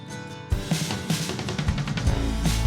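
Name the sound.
drum track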